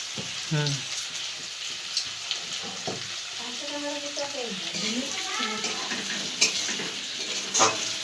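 Paneer sizzling and frying in a pan while a utensil stirs and scrapes, with a voice talking intermittently over the cooking noise.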